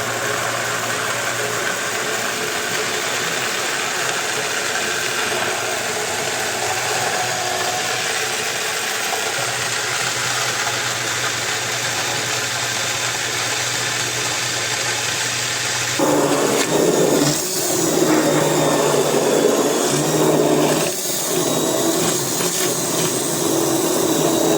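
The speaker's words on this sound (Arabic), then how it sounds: "هضربها بقى بالهاند بلندر" A hand blender whirs steadily in milk for an Ashura dessert, a constant motor drone that grows rougher and louder partway through as the mixture churns.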